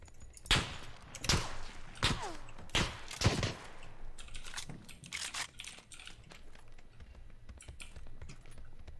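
Gunfire in the battle-royale game PUBG: a string of loud, sharp shots in quick bursts early on, then scattered quieter cracks and rattles fading into the background.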